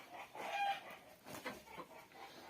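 A hen sitting on eggs gives a few soft, faint clucks and short throaty calls in quick succession, close by but quiet, with no voices.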